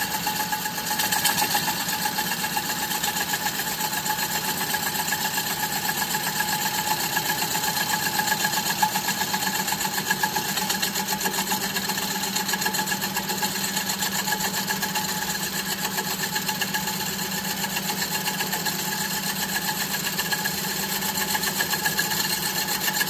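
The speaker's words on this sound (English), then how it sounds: "I'm going to start a cut, and I'm going to traverse across there." A wood lathe spins a platter blank while a turning tool traverses across the face, a steady droning hum with a constant high whine and rough cutting texture for the whole stretch, no talking.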